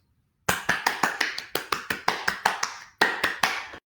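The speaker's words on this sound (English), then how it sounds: "I think you guys deserve a round of applause." A round of applause: a small series of separate, sharp hand claps, evenly spaced and close, about a dozen beats with one short pause partway through, without any voices.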